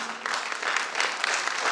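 Women in the audience at a product launch applaud, a dense, loud burst of many hands clapping that stays strong and even from start to finish.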